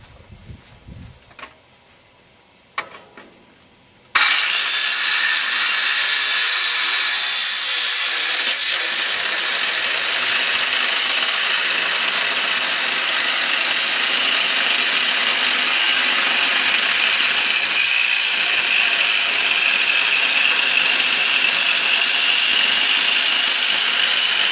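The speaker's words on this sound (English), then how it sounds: "Now I'll get my cutting tools out and cut this into strips." A power cutting tool grinds steadily through a computer case side panel of sheet metal, slicing it into strips; a loud, continuous high-pitched cutting whine starts after a few seconds of quieter handling noises and runs unbroken to the end.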